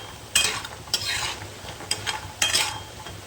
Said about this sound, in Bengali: বড়িগুলো লাল লাল করে ভাজা হয়ে গিয়েছে